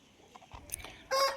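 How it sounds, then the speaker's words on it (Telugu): Purebred chickens brought from Bhimavaram, kept on a village farm, give a few soft clucks and then a louder, brief squawking call near the end, close by. "భీమవరం నుంచి తెప్పించినవి, మంచి జాతి కోళ్ళు ఇవి"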